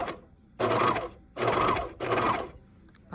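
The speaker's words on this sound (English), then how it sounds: "I'm going to run over the previous stitching by about ½ inch" Juki MCS 1700 coverstitch machine stitches over earlier stitching in three quick, loud bursts with short pauses between, close up and free of talk.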